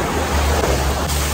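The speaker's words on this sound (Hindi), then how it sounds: "बहुत ही ज्यादा प्रेशर से आ रही है जो भी वेव्स बन रही है।" Strong ocean surf at Turtle Beach crashes in a dense, steady roar of foaming water, close and loud, with wind buffeting the microphone throughout.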